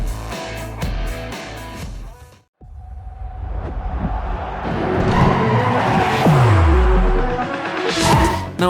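In a fast-paced, physics-based mobile racing game with nitro boosts, cars roar and skid with loud tire squeals. A brief near-silent gap breaks the sound before engines surge back, and a falling engine tone sweeps past later.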